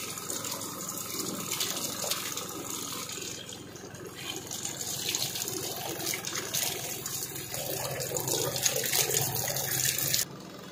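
Tap water gushes steadily and loudly into a washing machine drum being rinsed out at home, a continuous close splashing flow that cuts off abruptly near the end.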